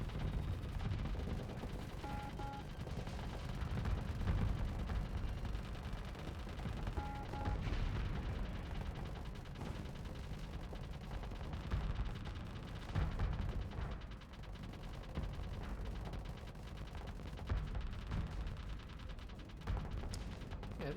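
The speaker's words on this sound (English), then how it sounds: "these dual machine guns do surprisingly good against fighters" Dual machine guns in the space game Starsector chatter steadily at enemy fighters, a dense, continuous rattle of rapid fire with low rumbling impacts running throughout, fairly even in loudness and with no talk.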